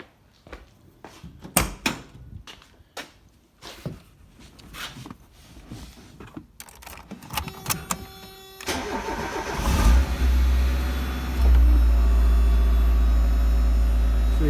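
A Mazda Miata engine cranks and catches after some clicks and rustling, then settles into a loud, steady idle that continues to the end.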